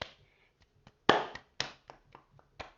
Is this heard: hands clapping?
yes